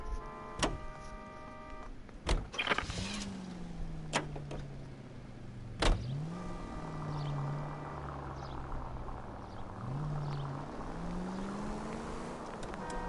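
A car engine in the video game L.A. Noire hums and shifts pitch steadily, broken by a few sharp clunks like doors or impacts, with no talking.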